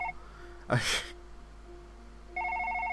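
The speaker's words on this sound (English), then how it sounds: "Our home phone rang from the living room." A home telephone rings in a video game, with repeated electronic ringtone trills at the start and again near the end, broken by a sharp breathy gasp in between.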